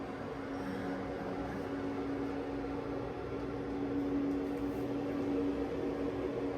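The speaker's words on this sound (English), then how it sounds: "I think the trash truck is coming around." A steady low rumble and hum of a garbage truck engine driving nearby runs throughout, getting slightly louder toward the end, with no speech.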